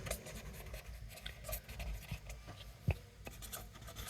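Marker or chalk writing on a board during a grammar lesson, a string of short scratchy strokes and taps at moderate volume over a faint background hum.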